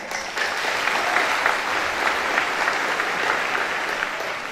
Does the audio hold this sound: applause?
yes